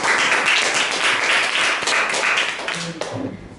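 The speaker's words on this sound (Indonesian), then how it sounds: "Mari kita berikan aplaus kepada teman-teman." Audience applause for student presenters at an academic paper presentation session, a dense burst of many hands clapping that carries on for a few seconds before tapering off, with a voice briefly heard near the end.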